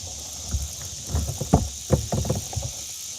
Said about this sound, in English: Yeah, them cicadas is what it is,